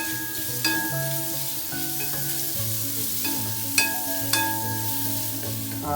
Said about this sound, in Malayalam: അപ്പോൾ നമ്മുടെ ഉള്ളി ഇങ്ങനെ വഴണ്ട് വരുന്നുണ്ട് കേട്ടോ ആ വെളിച്ചെണ്ണയിൽ നമ്മുടെ ഉള്ളി വഴണ്ട് വരുന്ന മണം നല്ലൊരു മണമാണ്